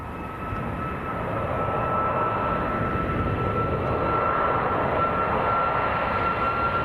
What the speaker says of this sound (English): Nice aircraft coming across now as well.